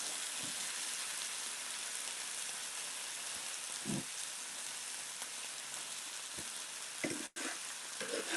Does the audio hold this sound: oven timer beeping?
no